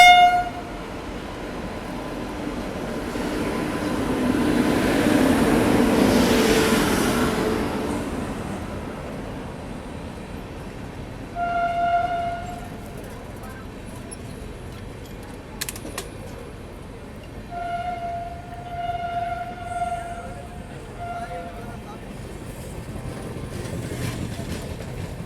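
A train pulls into platform 3 at Hazur Sahib Nanded station with a broad rumble of its approach, then two long, tonal horn blasts some seconds apart, moderately distant with no talk.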